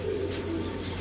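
Lal Pari breeder pigeons cooing steadily at close range, with low throaty coos layered over a continuous murmur of the flock.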